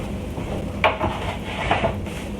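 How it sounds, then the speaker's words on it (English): A casserole pan set down off the stove in a home kitchen, giving a couple of soft knocks and clatters against a quiet room background. "And then I'm just going to set this aside over here off of the stove."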